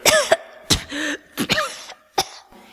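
A man coughs and splutters in a series of four or five sharp, close bursts with wet throaty catches between them, like someone spitting out water.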